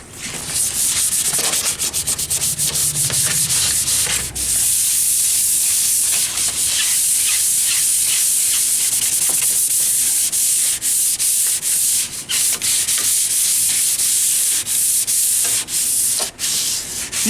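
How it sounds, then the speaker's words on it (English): A Burger Time arcade cabinet is sanded in a continuous, loud, close rasp, with the steady hiss of abrasive on the wooden cabinet broken by a few short pauses between strokes. "let's start sanding."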